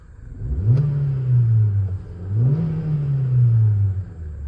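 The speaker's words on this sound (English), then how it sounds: "I'm going to give it a quick rev for you. You will hear it then." A 2014 Kia Soul 1.6 GDI petrol engine revs twice, each rev climbing quickly, holding briefly and dropping back to a low idle, loud and close with no talking.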